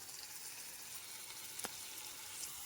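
A paste of ground ginger, garlic and green chilli added to onions frying in a pan gives a steady, soft sizzle, broken once by a brief sharper crackle.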